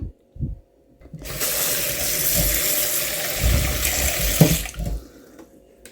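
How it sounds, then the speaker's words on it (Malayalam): Water gushes from a tap over fish pieces laid in a storage box, a strong, steady pour lasting a few seconds between soft handling knocks, with no speech. "അതിലേക്ക് ഇത് നഗക്കെ തന്നെ നമ്മൾ വെള്ളം ഒഴിച്ചു കൊടുക്കണം"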